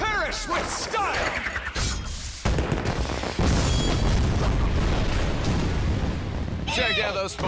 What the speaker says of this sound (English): Check out those fireworks!